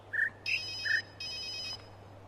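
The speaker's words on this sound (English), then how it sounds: "surely the phone noise there is to distract me" A phone rings in the video game The Witness: short chirping tones followed by two longer electronic rings, clear and fairly close over a steady low hum.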